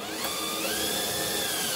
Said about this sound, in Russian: Как сверлить